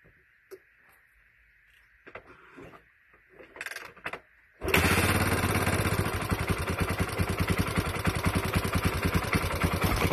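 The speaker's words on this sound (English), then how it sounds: "She really doesn't start up too bad once you get that initial first startup." A 1982 Honda XL500R single-cylinder motorcycle comes to life after a few quiet clicks and fumbling, then settles into a loud, steady, close-up idle with a rapid thumping beat.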